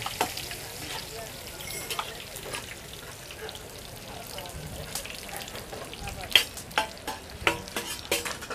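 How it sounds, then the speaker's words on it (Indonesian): Eggs fry at a busy nasi telur food stall: a constant crackling sizzle overlaid by sharp scraping and stirring clicks of a utensil against the pan, growing more frequent toward the end, with possible faint background chatter. "Tetap menggoreng telur. Tetap goreng telur."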